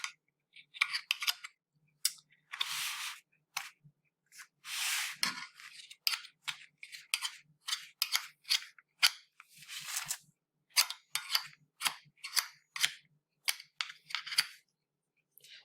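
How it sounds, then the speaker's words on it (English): Pie dough being trimmed from the edge of a flaky pie crust with a fork or leveling spatula, heard as a run of short, close scraping and cutting strokes in an uneven rhythm, with a few longer rasps and no talking. "You can take your fork or you can take your leveling spatula and you just gently cut those all off, all the way around your pie."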